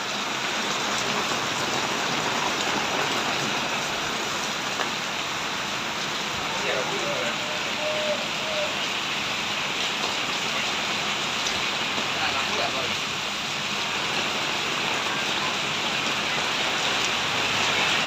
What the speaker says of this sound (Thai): ฝนก็เทลงมาแบบนี้นะครับ